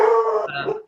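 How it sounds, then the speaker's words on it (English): A dog barks and howls close by in a short, loud burst with a yelping, whining tone, heard in the background of an indoor video call. "I apologize for my dog barking in the background."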